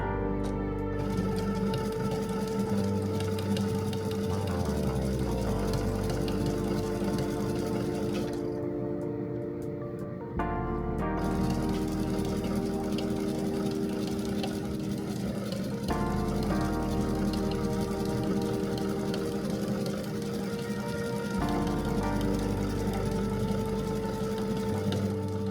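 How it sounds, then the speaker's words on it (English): Domestic sewing machine running a large zigzag stitch with cotton thread on festive outfit fabric, a steady close mechanical whir with a brief pause partway through, then continuing evenly. "Next one I am adding here will have a zigzag stitch that overlaps both."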